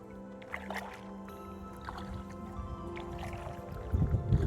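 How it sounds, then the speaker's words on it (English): Soft watery sloshes and dips of a kayak paddle in calm water, with a low steady hum in the background and a louder splash at the end. "ready for her first real kayak paddle"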